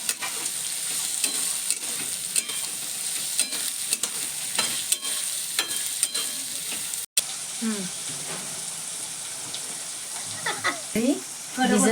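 Chillies and onion fry in a pan while being stirred, a loud, busy sizzle with repeated scraping and clinking from the spoon; a brief gap in the middle, then frying continues with a voice faintly present.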